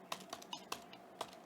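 Fingers tap out a short word on a computer keyboard, about half a dozen crisp, evenly spaced keystrokes close by in a quiet room, with no voices.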